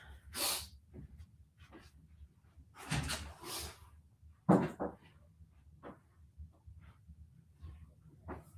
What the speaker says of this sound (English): I just got a sneezing attack all of a sudden.